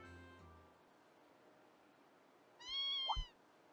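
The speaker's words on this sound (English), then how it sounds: "Oh, sounds like a kitten." A kitten in the video game Trails of Cold Steel II gives one short, clear meow near the end after quiet background tones.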